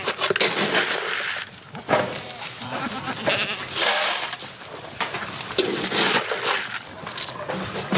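Goats bleat repeatedly in a crowded farm pen at feeding time, several animals calling over one another in a loud, continuous chorus with rustling and clatter around them.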